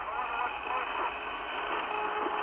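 An eerie whistling tone drifts through a hissing, crackly radio transmission from Apollo 10, steady and faint under heavy static, with no voices.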